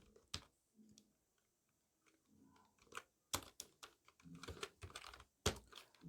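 Keys on a computer keyboard clack in short irregular bursts while entering figures into an Excel invoice sheet, close and crisp with quiet pauses between.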